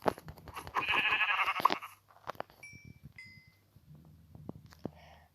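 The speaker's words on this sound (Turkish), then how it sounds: "Koyun gel lan buraya." Sheep in Minecraft giving a single close bleat early on, followed by sparse clicks and soft game sounds.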